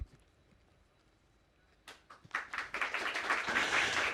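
A studio audience at a television talk show breaks into applause after a quiet opening, and the clapping swells into a dense, lively wash that keeps building.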